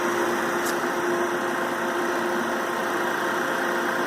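A new Harvest Right oil-less vacuum pump runs during a vacuum test with a steady, even mechanical hum and a constant tonal whine. It plays alone and close with no talk.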